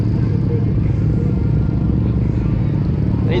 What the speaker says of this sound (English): this dude is definitely doing a wheelie.